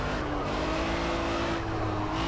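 A mid-engine BMW M1 with a 3.5-litre six-cylinder, driven on a Nürburgring lap in Project Cars, gives a steady, loud engine drone that holds throughout with no break.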